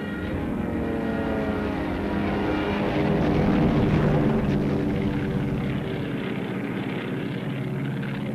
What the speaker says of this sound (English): 625 German bombers, escorted by as many fighters, deliver the heaviest air attack waged on a British city to this point.